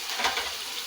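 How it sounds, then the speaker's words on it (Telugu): Drumstick, onion and tomato curry stirred in a pan, a close, steady sizzle with a few louder scrapes of the spoon over a brief moment, no voices. "ఒకసారి కలుపుకుందాం."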